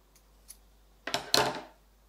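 Scissors snipping a knitting yarn tail: a couple of faint light ticks followed by two sharp close cutting snips, quiet otherwise.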